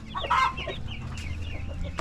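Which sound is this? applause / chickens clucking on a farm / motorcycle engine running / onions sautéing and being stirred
chickens clucking on a farm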